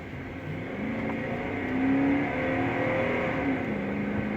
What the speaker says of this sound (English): All right, let's test out the acceleration.